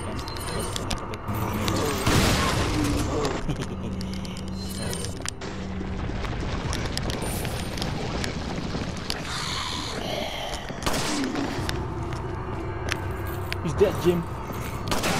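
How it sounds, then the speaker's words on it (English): A shotgun firing in a video game, heard as a few booming blasts amid busy game noise, with a voice talking over the action. "I want to use the shotgun."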